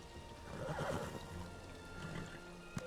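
A horse neighs in The Elder Scrolls Online video game, a single close whinny rising in the first second over soft ambient game sound, followed by a small click.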